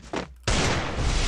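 Loud game gunfire: a short blast, a brief pause, then a sustained roaring burst of shots close up.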